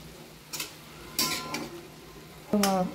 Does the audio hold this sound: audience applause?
no